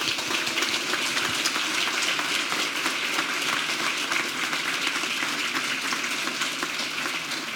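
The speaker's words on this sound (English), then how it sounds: "So first, a round of applause for Heide, please." Dense, sustained applause from an audience after a space presentation by a former NASA astronaut, many hands clapping evenly and loudly throughout with no talk over it.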